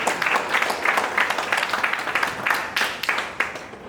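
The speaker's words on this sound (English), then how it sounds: "Let's welcome him with a huge round of applause." A round of applause at an institute induction ceremony, with individual claps clearly audible in a loose, uneven rhythm from a modest audience in a hall.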